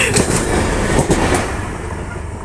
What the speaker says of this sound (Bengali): এই যে ট্রেন আইতাছে